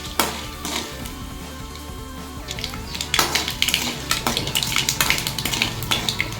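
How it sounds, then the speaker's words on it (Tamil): Mustard seeds spluttering in hot oil in a pan, a dense run of sharp crackling pops over a steady sizzle that grows busier midway, close and fairly loud, no talk. "கடுகு பொரியுது."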